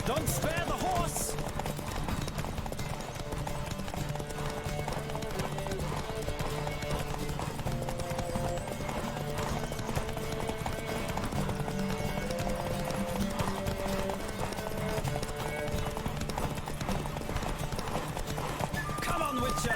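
Galloping hooves drum steadily through a horse race in The Witcher 3, with occasional neighs and whinnies, backed by continuous game music and some voices, loud and sustained throughout.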